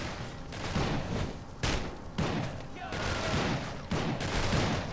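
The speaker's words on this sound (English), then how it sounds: "Who else is shooting?" Gunfire in the video game Urban Chaos: Riot Response, with repeated bursts of shots and machine-gun fire in several loud waves and game sound swelling between them, while a person talks.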